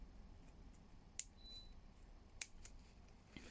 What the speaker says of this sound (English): I'll just fold it and make a couple of little snips